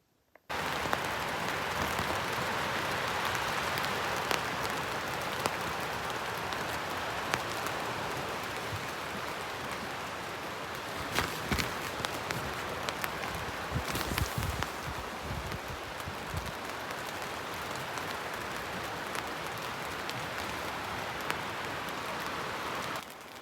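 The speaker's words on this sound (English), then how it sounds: "it's just started raining again" Steady rain falls on a tent and surrounding forest at a Temagami lakeside campsite during a storm, a dense continuous patter with occasional louder drips and gusts, no voices.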